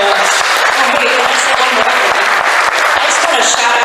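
Audience applause at a convention panel, a steady dense wash of clapping filling the room, loud and continuous for the whole stretch with scattered sharper claps standing out.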